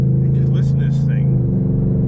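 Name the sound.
Ford Raptor pickup truck engine revving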